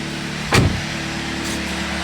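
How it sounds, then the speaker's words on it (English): A repaired Chevrolet Malibu engine idles quietly and evenly, a low steady hum with a brief louder thump or mechanical clunk near the start, then settling back to a smooth murmur. "first try, and the engine is absolutely quiet"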